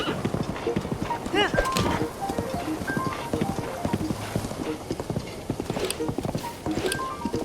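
Horse hooves clip-clop steadily in Breath of the Wild, Switch 2 Enhanced edition, as a mount travels across open ground, with a continuous rhythmic trot under bright game music and ambience.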